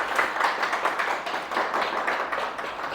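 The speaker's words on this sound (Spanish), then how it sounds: "Dale un aplauso a mi Señor Jesucristo," A church congregation claps together, the rhythmic clapping pulsing in soft waves of moderate loudness with no voices over it.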